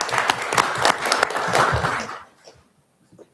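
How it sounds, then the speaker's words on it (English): A meeting audience applauds transit staff at a regional transit advisory panel, a steady burst of clapping across a room for about two seconds that fades quickly, with a few stray claps after. "I want to give you all a hand clap for the work you've done."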